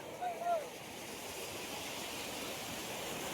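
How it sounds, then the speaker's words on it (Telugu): Sea waves at a beach in Pondicherry wash in as a steady, broad roar of surf, with a brief brighter swell near the start and wind noise over the microphone. "ఓ రౌండ్ తిప్పేస్తే అలలు వస్తున్నాయి."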